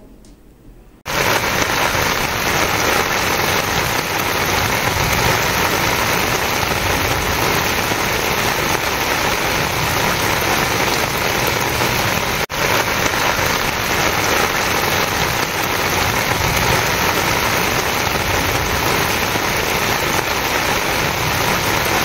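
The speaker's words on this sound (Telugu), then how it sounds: "భారీ వర్షం కురుస్తుంది" Heavy rain pouring down, a loud dense continuous roar of drops on surfaces that starts abruptly after a brief quiet moment and holds steady throughout, with no voices.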